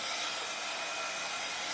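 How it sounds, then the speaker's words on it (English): A hair dryer that seems to be wearing out runs steadily indoors, a constant broadband whoosh at moderate level with no breaks and no speech over it. "I think my dryer's going out."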